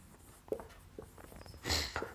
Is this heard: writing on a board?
yes